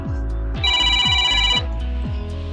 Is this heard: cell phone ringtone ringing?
yes